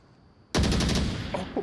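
A sudden loud burst of automatic gunfire in the VR shooter Onward, a dense rattle of close shots lasting about a second with a couple of fainter trailing hits.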